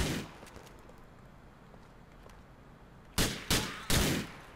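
Video game gunfire in GTA IV: a burst at the start, then quiet, followed by three sharp, loud shots in quick succession near the end.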